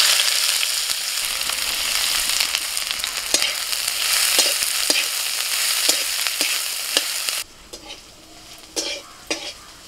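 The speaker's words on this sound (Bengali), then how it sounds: "কড়াই সর্ষের তেল দিচ্ছি। তেল গরম হয়ে গেছে, পেঁয়াজ কুচো দিয়ে দিচ্ছি।" Chopped onion sizzles loudly in hot mustard oil in a wok, a dense hiss broken by stirring scrapes, then the sizzle drops sharply quieter near the end.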